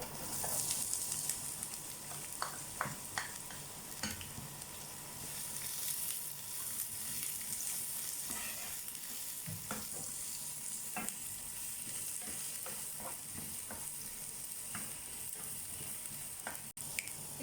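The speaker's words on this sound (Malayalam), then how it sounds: "ഇനി നമുക്ക് സവോള ഇടാം." Sliced onions frying in hot oil in a pan while being stirred, a continuous sizzle broken by irregular scraping and clicking from the spoon, close and moderately loud.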